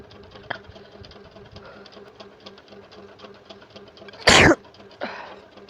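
A single loud, sharp sneeze up close, followed by a softer second burst like a sniffle or cough, over a low mechanical hum.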